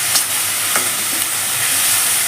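Onions frying with salt in a pan, a continuous close sizzle broken by a couple of sharp stirring scrapes, with no voices.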